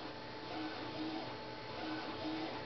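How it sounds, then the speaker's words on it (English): A printer runs steadily with a mechanical whir and repeated short squeaky strokes, fairly close and without voices. "Get ready for the sound of my printer."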